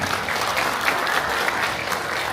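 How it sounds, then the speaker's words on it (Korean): Audience applause at a county governor's New Year visit to a township, a steady wash of hand clapping from a crowd indoors, continuous and even throughout with no talking. "군정 설명해 주신 김동건 교수께 다시 한번 큰 박수 부탁드립니다"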